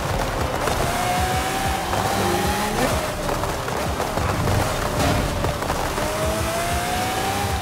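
A Lamborghini Murcielago with an LB body kit races in Forza Horizon 5, its engine revving up and down through gear shifts with a loud, continuous roar and rising whines, no talk.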